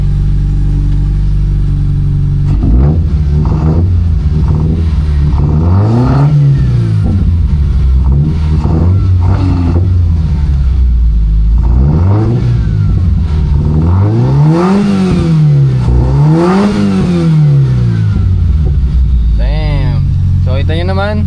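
A rare Toyota's engine revs repeatedly, rising and falling in pitch over a steady idle, loud and close.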